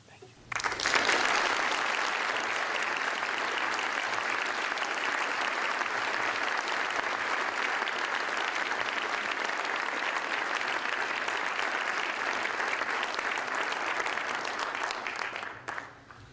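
Sustained applause from a symposium audience on the future of higher education, steady and full for about fifteen seconds before tapering off at the end.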